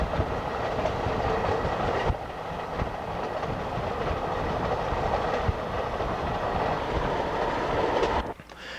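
An Amtrak passenger train rolls across the Mojave Desert in California, a steady close rumble with rhythmic clickety-clack of wheels over rail joints, continuous and loud with no voices.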